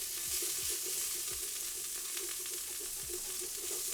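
Borscht pot on the stove with a crust of browned meat stuck to the bottom, a wooden spoon scraping it loose amid steady sizzling, with several short scraping strokes repeating close by.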